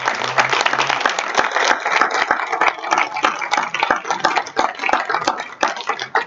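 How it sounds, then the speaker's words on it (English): Audience applause for two campaign candidates at an event at the Amara Center: sustained, dense clapping from a crowd, steady and fairly loud for several seconds without talk. "Can we please give a round of applause to both Kent Warner and Matt Gerler?"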